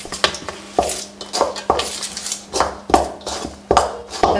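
Besan, turmeric powder, spices and oil being mixed together in a bowl with a spoon, giving repeated close scraping and clinking strokes in an uneven rhythm with no talking.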